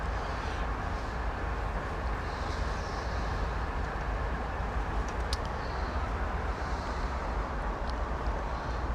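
A CSX heavy-haul locomotive in Train Sim World rolls slowly through yard switches, giving a steady low rumble with faint metallic clicks and squeals above it, no voices.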